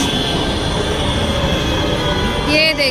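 A Delhi metro train rumbles past steadily and loud, its wheels grinding along the track, ending with a rising metallic squeal of braking wheels near the finish.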